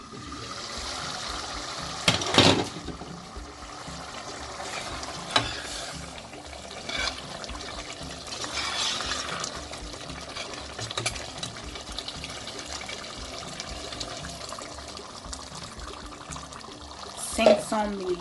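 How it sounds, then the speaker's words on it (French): Water poured into a pot of Congolese cassava leaf pondu and stirred, with soft liquid splashes and stirring sounds over a steady background and a few sharper knocks near the start and end. "J'ai rajouté aussi 500 ml de l'eau."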